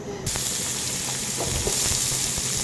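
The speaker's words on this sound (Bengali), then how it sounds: "এখন আমি ওই পেঁয়াজগুলা ভেজে নিতেছি" Onions sizzle steadily in hot oil in a pan for a brinjal fry, a dense, continuous crackle with faint scraping touches and no talking.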